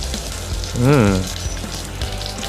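Lemongrass sizzling in a pan for chicken tinola, a steady close frying hiss with a brief whooshing swell partway through, and a faint voice in the background.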